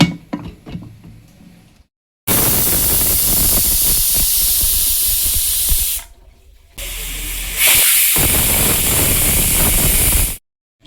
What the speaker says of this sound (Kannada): ಈಗ ಕುಕ್ಕರ್ ಕ್ಲೋಸ್ ಮಾಡಿ 2 ವಿಷಲ್ ತಗೋಣ.